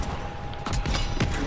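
Gunfire in the World War II shooter Call of Duty WW2: a couple of sharp shot bursts at about the middle and near the end, set against a steady bed of game background noise.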